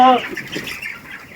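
Chickens on a poultry farm give a short, high cluck or chirp near the start, followed by a busy background of flock noise.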